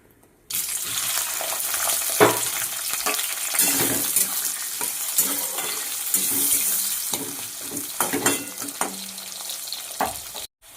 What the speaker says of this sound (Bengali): এবার তেলটা গরম হয়ে গেছে, এবারে তেজপাতা দেব। এবার পেঁয়াজটা দিয়ে দেবো।